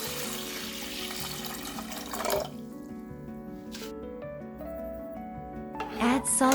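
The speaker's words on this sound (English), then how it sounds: "Fill with water" Water pours into a pot of bulgur in a home kitchen, a steady splashing rush that thins out midway, leaving faint dripping and clinks, then swells again at the end.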